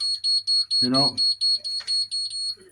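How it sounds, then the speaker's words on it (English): Fire alarm sounders on an Emerald fire alarm system blare a steady train of loud, evenly pulsed high beeps, about four per second, with a brief voice speaking partway through. "you may find that when the alarm goes off,"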